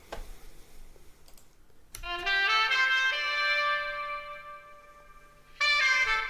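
Horn sample run through a Toneflx vintage texture effect with Valhalla vintage reverb, giving a sustained, harmonically rich brass tone with grainy, worn texture, starting after a short clicky intro and swelling back in at the end.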